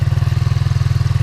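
A big bore scooter engine idles steadily through a lightly baffled, loud exhaust, a close, even low throb with a regular pulsing rhythm throughout.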